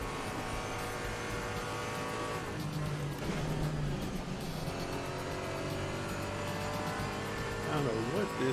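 F1 race cars in a racing video game at Circuit de Spa-Francorchamps: a steady, droning engine whine with shifting pitch and revs, continuous throughout, with voices talking over it.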